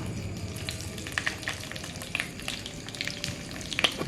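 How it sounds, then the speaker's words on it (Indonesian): Cue fish sizzles steadily in hot oil, a continuous crackling fry with small pops and spatters, close and fairly quiet, with no talk. "Ikan cuek ini digoreng dulu."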